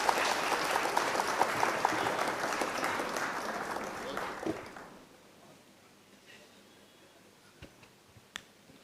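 Loud applause from the audience at an international poetry mushaira fills the first half, then fades into quiet room noise with a few faint ticks and knocks.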